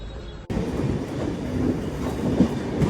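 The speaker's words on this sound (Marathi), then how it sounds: "बघितलं व्हिडिओ रेल्वेचा" A train runs along a railway, its steady rumble and clatter rising loud and continuous after a quiet opening moment, with no talk over it.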